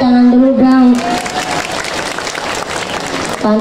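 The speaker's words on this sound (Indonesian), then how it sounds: "Tepuk tangan dulu dong." An audience breaks into steady, dense applause for about two and a half seconds at a religious talk, with a voice heard just before the clapping starts and again as it fades.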